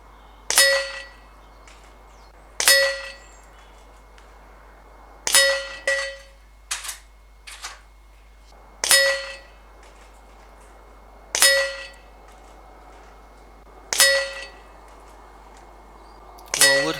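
A John Bowkett Super 10 air rifle fired at a target about 30 yards away, eight or so sharp metallic clangs with a ringing ding, spaced a couple of seconds apart and fairly loud, with a few quieter clicks in between.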